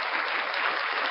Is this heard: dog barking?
no